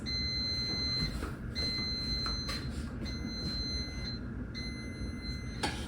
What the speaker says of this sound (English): It should be beeping any moment now.